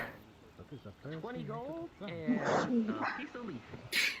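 A man playfully imitates a dog with his voice, producing a run of whimpering, yipping and bow-wow sounds mixed into spoken words, close and moderately loud, with another voice briefly at the end.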